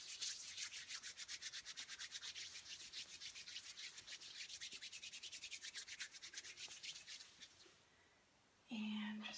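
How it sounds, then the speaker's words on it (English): Hair product rubbed between palms and then worked through hair, a close, steady, rhythmic brushing friction that fades near the end before a brief louder rustle. "And just rubbing it through his hair."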